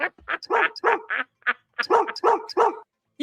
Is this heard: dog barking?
yes